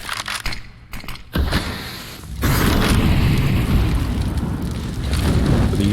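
Grenade blasts from thrown utility in the shooter game Counter-Strike, a few sharp bursts followed by a heavy booming explosion that leaves a loud sustained rumble, close and dominant.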